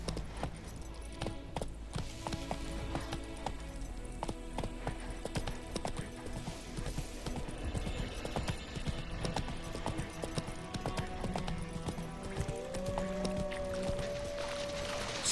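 Horse hooves clip-clopping in the video game The Witcher 3, a steady rhythmic trot over continuous ambient game sound, moderately loud, with a brief whinny-like tone near the end.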